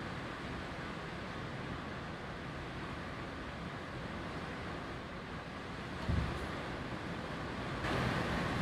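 Heavy rain pelts down outdoors as a steady, dense wash of noise, heard faintly from inside with no talk.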